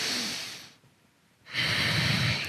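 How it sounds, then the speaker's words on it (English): Slow, controlled breathing through the nose during a no-weights home shoulder yoga workout: a long airy exhale, a brief pause, then a steady inhale, close and clear with no talk. "Make sure you're breathing in and out of your nose."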